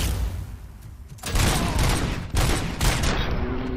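Gunfire in the video game RoboCop: Rogue City comes as loud, dense bursts, repeated volleys crashing in after a quieter opening and rolling on to the end.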